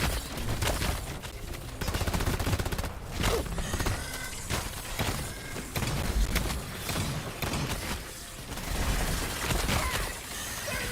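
Rapid weapon fire in the Deep Rock Galactic mining shooter, dense bursts of automatic shots rattling almost continuously with brief pauses, loud and close, with a little speech in the mix.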